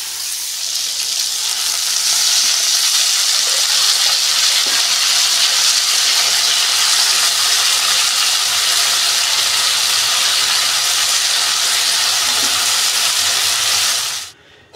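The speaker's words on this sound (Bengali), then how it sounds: "এখানে এটা অনেকক্ষণ ধরে সেদ্ধ হচ্ছে, ঢাকা দিয়ে রেখে দিয়েছিলাম" Bottle gourd greens simmer in a covered pot with a mustard, red chilli and salt paste ready nearby, giving a steady, loud sizzling hiss that holds evenly for about fourteen seconds before cutting off abruptly.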